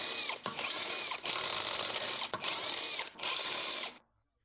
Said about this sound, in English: use a 17mm socket with electric impact to finish removing the lug studs